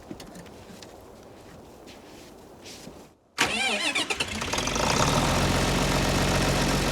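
A tractor engine, warmed by a block heater, cranks after a short pause and catches, then runs loud and steady close by, idling with a rough, knocking rumble in a snowy outdoor setting.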